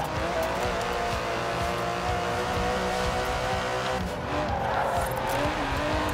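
An Aston Martin DB11 with a 5.2-litre twin-turbo V12 drives in Forza Horizon 4, a steady loud engine drone with sustained harmonic tones and faint tyre noise throughout.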